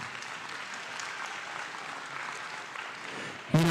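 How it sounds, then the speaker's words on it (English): Audience applause for the young exhibitors at a county fair goat and sheep show, a steady, fairly distant crowd clapping in an arena that runs evenly for several seconds before a sudden louder noise at the end. "let's give all these kids a big round of applause"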